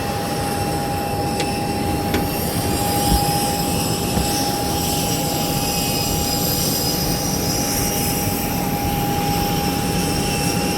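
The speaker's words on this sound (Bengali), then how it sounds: "ইঞ্জিন নয়েজ ভালো।" Jet airliner engine noise heard from inside the cabin on a flight from Cyprus, a loud constant roar with a steady whine running through it, unbroken throughout with no talking.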